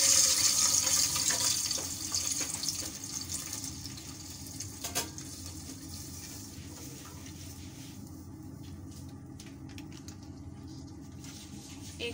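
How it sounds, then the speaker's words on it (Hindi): Milk, two litres, poured into a pot for seviyan: a steady close splashing stream that is loud at first, then fades to a softer trickle with faint clinks. "तो अब हम इसमें दूध डालेंगे।"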